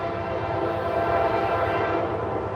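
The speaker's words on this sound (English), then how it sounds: "Got a train coming now." A passing train sounds its horn, a sustained tonal blare over a heavy rumbling rail roar with faint clatter. It is loud and continuous and stays close throughout.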